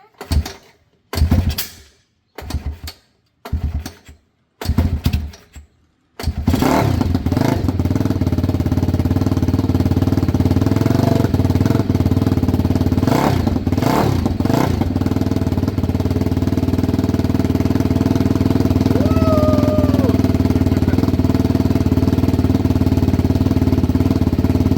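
A Honda ATC70 small-displacement engine on a three-wheeler catches after a few rhythmic pull-start tugs, then runs loud and steady close by, with throttle blips rising and falling over the continuous drone.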